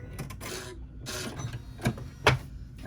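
Home embroidery machine shifting its hoop into position for the next stitching section of a clutch, a steady mechanical whir broken by a couple of sharp clicks, close and moderately loud.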